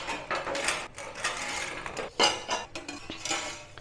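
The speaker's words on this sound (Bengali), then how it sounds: "আলুটাকে কাটবো।" Potato being cut into thin slices on a hand slicer, a run of close, scraping and clattering strokes in an uneven rhythm.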